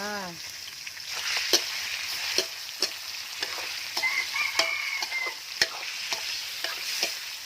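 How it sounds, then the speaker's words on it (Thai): Pork and garlic stir-frying in hot oil in a wok, a steady close sizzle broken by repeated scraping stirs, with a brief vocal tone at the very start. "ใส่น้ำมันใส่กระเทียมลงไป ใส่เนื้อหมูลงไปเลยจ้า"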